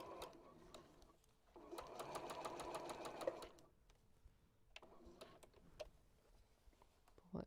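A sewing machine stitches through a Cathedral Window quilt in two bursts of rapid, even needle chatter, separated by quieter pauses with small handling clicks as the fabric is adjusted.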